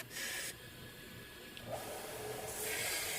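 Half-inch woodturning gouge sharpened on a grinder: a steady, loud abrasive hiss and rasp that holds throughout, shifting in brightness as the tool is moved across the wheel, no talking.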